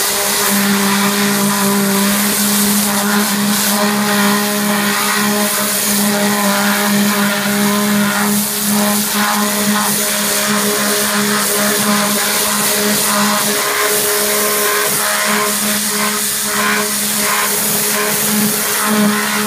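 A pressure washer power-washes Spanish clay roof tiles, its loud, steady motor whine and hissing spray running continuously up close with no break.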